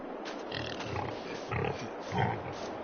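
Pigs in a farm pen that holds about thirty animals, several low snuffling grunts in irregular bursts, close and fairly loud, with a couple of louder grunts toward the end.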